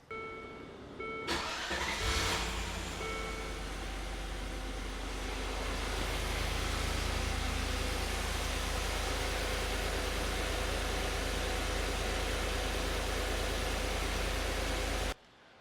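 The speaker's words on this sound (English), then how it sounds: "So now what we're gonna do is turn the engine on." A Land Rover Discovery 2 engine cranks and starts, then settles into a steady, loud idle mixed with a strong rushing blower from the heater running at full blast, continuous and close, no voices.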